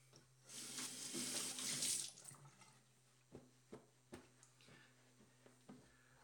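Water from a tap gushing into a sink during a shave, a quiet burst lasting about a second and a half before it shuts off, followed by a few soft, scattered drips and taps.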